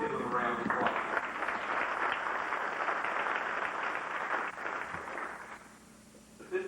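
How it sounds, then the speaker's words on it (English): A crowd at a 1989 Casey County FFA banquet claps steadily in broad, dense applause that fades gradually toward the end. "Let's give them a round of applause."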